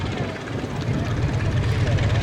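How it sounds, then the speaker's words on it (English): A vintage light aircraft's piston engine drones steadily at an air museum event, a loud, even propeller hum that fills the whole moment, with a voice faintly mixed in. "the sound of these airplanes is a lot like the civilian airplanes that are out here today"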